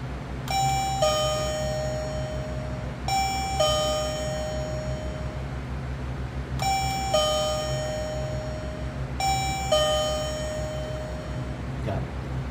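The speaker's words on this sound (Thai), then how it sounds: "คนที่มาสามารถเรียก กดกระดิ่งเรียกคนข้างในให้มาเปิดประตูให้ได้ครับ" A B04 door bell mounted outside a room door chimes four times in evenly spaced two-tone ding-dong rings, clear and close against a steady low background hum.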